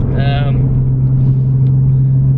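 A Nissan 370Z fitted with a Stillen Gen 3 cold air intake drives along, its engine a steady, loud, low droning hum heard from inside the car, with a brief voice near the start.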